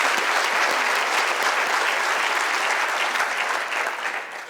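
Audience applause at a university graduation ceremony in honour of academic staff. A large hall crowd claps steadily and fairly loudly for about four seconds, then the clapping begins to fade.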